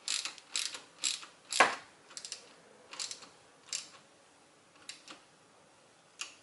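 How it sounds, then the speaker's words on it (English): A ratchet tightens the 10 mm nut on the negative battery terminal of a BMW i8, giving close, quiet clicking strokes in short irregular bursts with pauses between them. "tighten the 10 millimeter nut to the required 5 newton meters"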